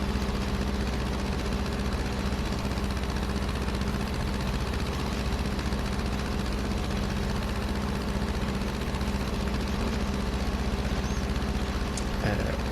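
A tractor engine in a farming video game runs continuously at a steady low idle, loud and unchanging throughout with a rough vibrating rumble.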